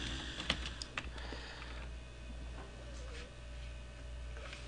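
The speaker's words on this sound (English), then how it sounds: "So let me just type that question." Quiet computer keyboard typing during a live chat broadcast, a few scattered key clicks early on, then faint intermittent tapping over a steady low hum.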